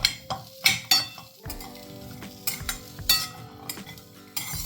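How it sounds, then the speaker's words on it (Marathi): Onion is roasted in a pan, heard as repeated spatula knocks, scrapes and metallic clinks against the pan with only a faint sizzle underneath. "थोडा कांदा लालसर होईपर्यंत आपल्याला भाजून घ्यायचा आहे."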